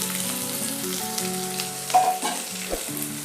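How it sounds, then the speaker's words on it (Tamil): Chopped onions sautéing in oil with salt for a squid roast give a steady, close sizzle that runs the whole time under background music, with a brief louder stirring scrape near the middle. "இப்போ இதை நல்லா வதக்கிக்கலாம்."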